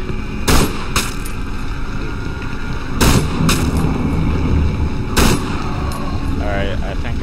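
Gunfire in the horror video game Cry of Fear, with loud sharp shots spaced a couple of seconds apart over a constant rumbling background.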